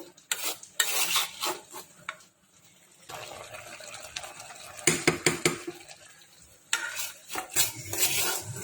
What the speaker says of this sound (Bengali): এখন শুধু নাড়তে থাকবো